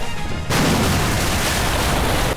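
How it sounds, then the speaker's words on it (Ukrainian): A sudden loud explosive blast at sea that erupts after a brief quiet moment, followed by a sustained roaring rumble that fills the rest of the clip. "За мить тишу розриває вибух."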